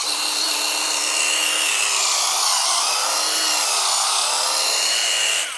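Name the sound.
Ryobi ONE+ polisher running at low speed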